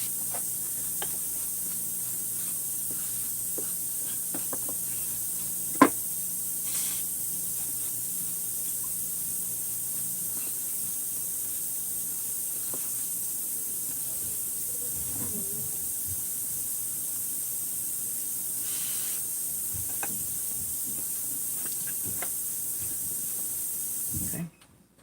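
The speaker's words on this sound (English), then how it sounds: "let's make sure that the surfaces are appropriately degreased with brake cleaner" Brake cleaner hisses out of an aerosol can in one long, steady spray while degreasing surfaces on a 372XP. The sharp, continuous hiss runs for over twenty seconds with faint handling noises beneath it, then cuts off abruptly.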